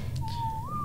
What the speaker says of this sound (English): Probably to get over here and whistle passive.